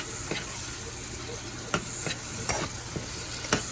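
Spatula scrapes and stirs turmeric and sambar spices around a hot pan, a handful of sharp scraping strokes over a steady low sizzle, close and moderately loud.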